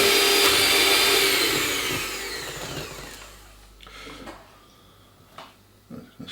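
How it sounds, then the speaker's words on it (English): An electric hand mixer beats a Christmas cake mixture, its loud steady whir fading and winding down within seconds, followed by a few quieter clicks and knocks as the motor stops. "you're going to beat it again with the mixer until it's all combined"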